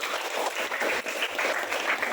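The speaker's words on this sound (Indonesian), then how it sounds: "Kita kasih tepuk tangan untuk Kakak" A class applauding a student during a teaching practice session, steady mid-level clapping from a small group throughout, with no talk over it.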